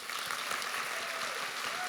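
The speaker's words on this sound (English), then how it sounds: "give her first of all, a Highland Park clap, a Texas clap, a Rejebian book review clap," At a book review event, an audience claps steadily to welcome a speaker, producing an even wash of applause with a regular rhythmic pulse, heard at a modest, somewhat distant level.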